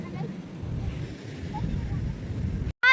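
Sea waves at a rocky shore near Kollam, Kerala, a low rumbling surge of surf with wind buffeting the microphone, steady and close, broken by a brief dropout near the end.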